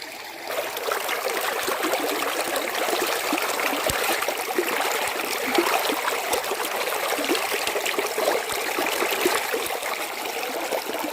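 Mountain stream flowing near a hidden waterfall in the Kolli Hills of Tamil Nadu, a steady broadband rush of water with small splashes, continuous and fairly close.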